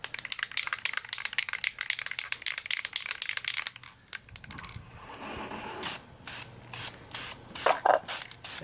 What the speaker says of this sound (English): we're going to go ahead and spray the primer